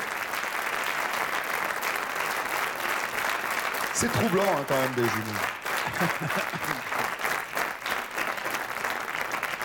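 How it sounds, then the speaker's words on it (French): Continuous applause from a TV studio audience for twins seated in the front row, steady and full under a voice that speaks briefly in the middle. "Applaudissez nos jumeaux."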